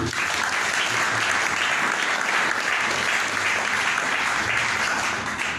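A church congregation applauds in praise during a French-language sermon, a dense, sustained roar of clapping that holds steady and loud throughout.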